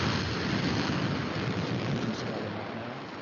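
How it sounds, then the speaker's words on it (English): A rocket engine test firing at Stennis roars as a broad, steady rumbling blast that holds strong throughout and eases slightly toward the end, with no talk over it. "So the engines themselves, not the boosters, are tested in Stennis Flight Center. And we'll give you a rundown of what that sounds like."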